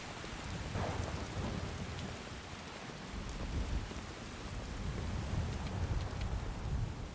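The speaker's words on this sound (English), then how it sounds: "You get a few last rumbles." In the Skyrim video game a thunderstorm carries on with a soft, steady rain hiss while deep thunder rumbles rise and fall underneath it, without any voices.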